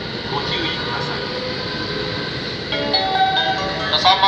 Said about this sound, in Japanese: 3番乗り場に電車が参ります。